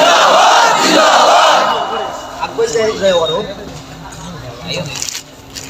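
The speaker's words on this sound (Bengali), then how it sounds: "একটা স্লোগান দেন, নারায়ে তাকবীর, নারায়ে রিসালাত, আহলে সুন্নাত ওয়াল জামাত" Large gathering at a Bengali Islamic sermon chanting the slogan Nara-e-Takbir in unison, a loud massed shout that swells then breaks into scattered responsive calls and murmurs as it fades.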